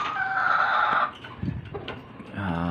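A rooster crows loudly and close, followed by softer clucking and rustling, then another rising crow begins.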